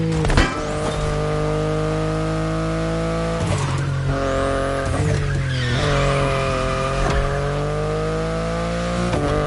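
BMW i8 driven in a racing game on PS4: a steady, loud engine drone that rises and falls with gear changes, with tire squeal and brief shift dips throughout.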